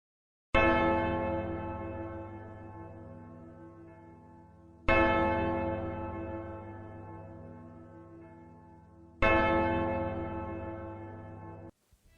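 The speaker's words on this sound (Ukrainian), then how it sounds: "Лунає дзвін" A church bell tolls three times at slow, even intervals at a Chernobyl disaster memorial, each deep strike ringing out and fading before the next.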